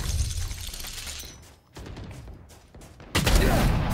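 The Ares machine gun in VALORANT rattles out a dense burst of fire, drops to scattered shots and clatter, then swells into a loud, sustained spray at the end.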